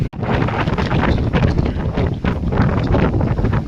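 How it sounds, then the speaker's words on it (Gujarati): Strong wind buffets and roars across the microphone in continuous gusts at Khidki Point viewpoint, Toranmal hill station, Maharashtra, loud and close, with no voices. "આ પવનનો અવાજ એ ગજબનો છે"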